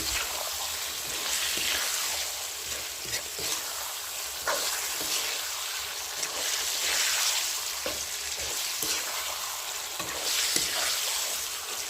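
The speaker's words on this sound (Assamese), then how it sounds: "এতিয়া মাংসখিনি দি দিছোঁ। অলপেই ধুনীয়াকৈ ভাজি ল'ম।" Meat fries in a pan with spices and turmeric, a steady close sizzle with occasional stirring scrapes and small pops, continuous and fairly quiet with no talk.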